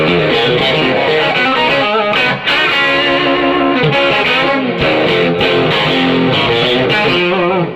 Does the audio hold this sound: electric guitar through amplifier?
yes